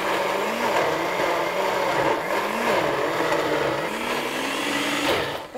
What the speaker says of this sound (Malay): aku tengok blender ni dia macam sesak